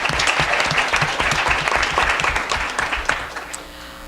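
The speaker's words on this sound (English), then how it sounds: "let's give a round of applause" Sustained applause from a convention audience at an evening guest-of-honour event, a dense steady wash of many clapping hands that holds for several seconds and thins slightly toward the end.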